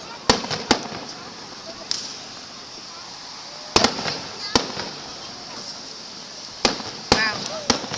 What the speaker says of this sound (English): These fireworks are actually cooler.